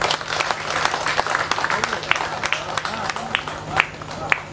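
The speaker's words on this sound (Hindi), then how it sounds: "भाई एक बार और आपके धन्यवाद की तालियां इनको मिल जाए" Audience applause at a Vishwakarma Puja event, fairly close and lively, with individual sharp claps popping out of a steady clapping wash over a low electrical hum, and some crowd voices mixed in.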